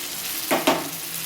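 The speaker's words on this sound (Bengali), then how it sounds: "পেঁয়াজগুলো একটু লাল লাল করে ভাজা হবে।" Onions frying with spices in a pan, a low continuous sizzle broken by two quick bursts of stirring or scraping close by.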